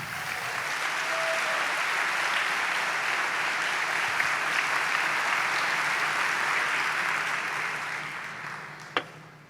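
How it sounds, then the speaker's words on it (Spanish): A church congregation claps together in a broad, steady wash of applause at a sermon, holding strong for several seconds before tapering off, with one sharp knock near the end. "dele palmas al Señor"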